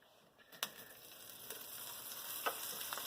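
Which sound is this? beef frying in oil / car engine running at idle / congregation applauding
beef frying in oil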